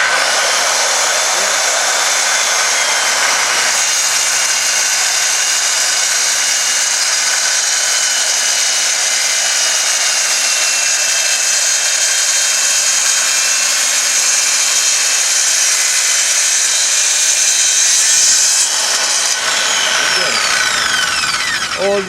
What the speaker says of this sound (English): Cutting 3/4 of an inch plastic is very, very dangerous.